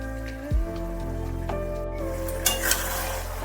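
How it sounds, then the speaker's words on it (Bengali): Spices, coriander powder and garam masala, are stirred into chicken pulao in a pan, with soft scraping strokes and gentle sizzling, plus a few louder utensil knocks near the end. "ধনে গুঁড়ো আর গরম মশলাটা দিয়ে ভালোভাবে এটা নাড়িয়ে চাড়িয়ে দিতে হবে।"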